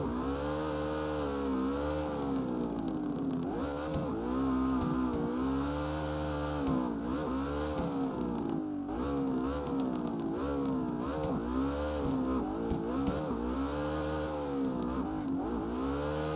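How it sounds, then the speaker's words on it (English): A Ford Mustang Cobra engine in CarX Drift Online drones steadily while the throttle is blipped repeatedly, the pitch jumping up and falling back in quick revs; loud and continuous. "when you hear me blipping the throttle"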